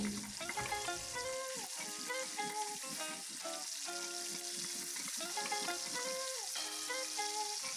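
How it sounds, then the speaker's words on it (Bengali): Small fish fry in oil in a pan for a cauliflower fish curry, a soft crackling sizzle that runs steadily under melodic background music. "মাছগুলো এক সাইডে ভাজা হয়ে গেছে, এরপর আমি মাছগুলোকে উল্টে নিচ্ছি।"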